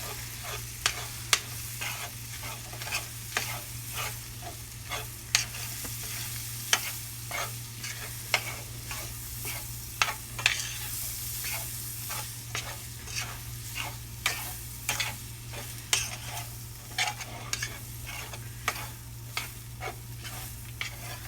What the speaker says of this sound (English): Then you're just going to want to stir in that flour. Make sure it coats every single piece of sausage.